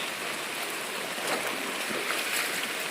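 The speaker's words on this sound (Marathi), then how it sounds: "हा बघा हा ओढा आहे, 2-3 ठिकाणून आलेला आहे" A swollen forest stream fed from several channels during heavy monsoon rain rushes past in a broad, steady roar of flowing water, close and loud with no voices over it.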